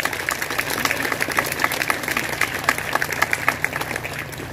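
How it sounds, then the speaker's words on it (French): An audience at an academic year opening ceremony at CESA applauds steadily, a dense, even wash of many hands clapping at moderate distance, sustained throughout without talk. "Veuillez l'applaudir, s'il vous plaît."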